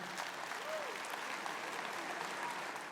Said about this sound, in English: let's give another round of applause for our orator,